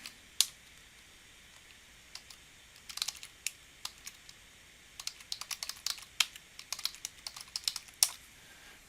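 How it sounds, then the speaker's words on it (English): Keys clatter on a computer keyboard as a username is typed, a few isolated taps then quick irregular bursts of clicking, close and fairly quiet with no talk. "Enter in your username."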